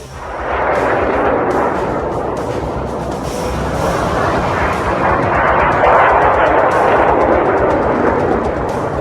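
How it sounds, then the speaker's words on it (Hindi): Iranian missiles strike Israel with a dense, continuous roar of distant blasts and rumbling explosions that holds at a loud, steady level throughout, with no clear pauses between impacts. "ईरान की तरफ से फिर से मिसाइल अटैक लॉन्च किया गया।"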